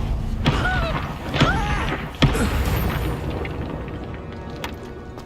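Spell blasts in Hogwarts Legacy, including the Confringo explosion, with several deep booming thuds and whooshing magical effects under game sounds, the strongest impact midway.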